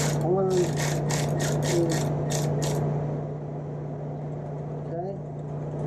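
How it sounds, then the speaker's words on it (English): A 5/16 Allen wrench loosening a bolt on a 2007 Harley-Davidson Fat Bob, heard as a burst of rapid ratcheting clicks over a steady hum, with a voice speaking intermittently throughout. "Take our 5/16 Allen. Watch our mark. I like to go back, loosen it 4 times."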